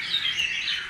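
A red-whiskered bulbul sings a short, bright, close call, a single clear phrase with no other sound around it.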